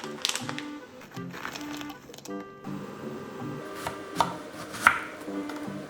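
A knife cuts an eggplant in half on a cutting board while preparing a minced-meat filling, giving several close, sharp chopping thuds and clicks spread through the stretch.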